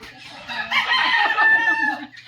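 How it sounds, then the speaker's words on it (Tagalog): Chicken at a family home in the Philippines giving a run of loud, close, agitated squawks and clucks that rise and fall for about two seconds. "Ang manok."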